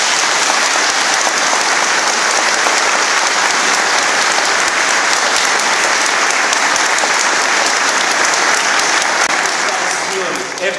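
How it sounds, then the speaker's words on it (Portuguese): Sustained, loud applause from wedding guests at a church ceremony fills the whole stretch, a dense, even roar of many hands clapping with no pause. "E uma salva de palmas, está bem?"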